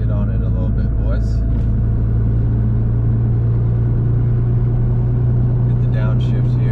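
A 2016 Nissan GT-R tuned to about 1200 wheel horsepower pulls hard on a city street, its deep, steady engine rumble and drone continuous and loud throughout, with faint high chirps near the end.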